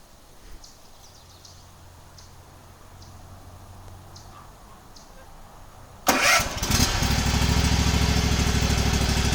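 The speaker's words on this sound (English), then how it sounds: "And the lawnmower just started." After a quiet stretch, a Toro lawn mower engine, started remotely from a smartphone, sputters to life and settles into a loud, steady close-up running drone.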